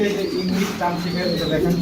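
Pigeons at a large farm in Kalyanpur, Dhaka, holding over 300 pairs coo in low, throaty, repeating calls close by, with voices talking over them.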